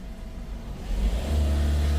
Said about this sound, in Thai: ทั้งทั้งที่ผมกดคันเร่งสุดแล้วนะเนี่ย